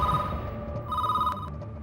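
A telephone rings with a steady electronic bell tone, two bursts close together, fairly near with light background noise.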